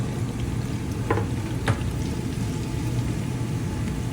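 Chopped onion and garlic fry in a pan, a steady close crackling sizzle with a few faint stirring taps.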